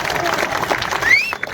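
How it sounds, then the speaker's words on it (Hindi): An audience at a Hindi comic poetry event in Rajnandgaon claps loudly in a dense, steady wash of applause, with a voice speaking over it. "एक बार जोरदार तालियां बजाएं।"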